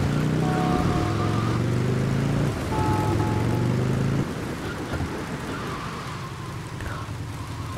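Rain falls steadily in Grand Theft Auto: Vice City, a soft continuous hiss under engine hum and game noises.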